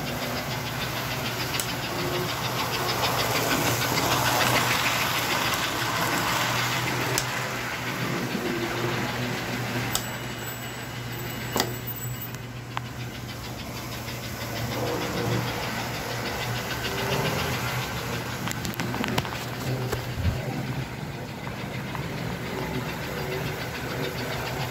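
An American Flyer K5 Pennsy model train locomotive runs on its track with a steady mechanical hum and rhythmic clicking, with a small hitch from wheels that need cleaning, continuous and fairly close throughout.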